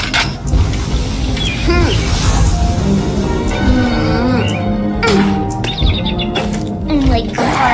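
Short bird chirps and tweets in a Roblox game, scattered bright calls over a busy background of game sounds and voices talking.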